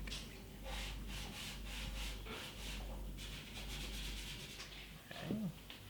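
French polish being rubbed back on an antique parlour guitar, a soft continuous rhythmic rubbing with back-and-forth strokes, close and quiet, ending in a brief clatter.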